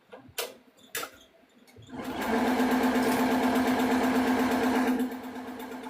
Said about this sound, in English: So go ahead and stitch out your boxes.